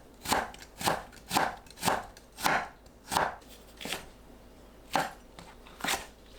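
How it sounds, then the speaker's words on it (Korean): A knife julienning carrot on a cutting board, sharp evenly spaced chops landing about twice a second, close and distinct with brief pauses between strokes. "당근을 얇게 채 썰어주세요."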